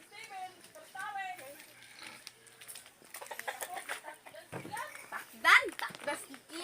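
Chicken clucking in a backyard setting, brief squawky calls scattered among children's and adults' voices talking nearby.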